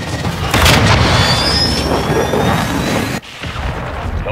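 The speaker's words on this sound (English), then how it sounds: "Trojan 6-2, cruise missile inbound." A cruise missile strike in Call of Duty Modern Warfare 2022 multiplayer lands as a loud, sustained rumbling blast with a roaring tail that cuts off abruptly, then a fainter rumble continues.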